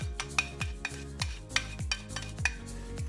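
Endives sautéing in butter in a large frying pan, a soft sizzle broken by repeated scraping stirs at a fairly regular pace, close but fairly quiet.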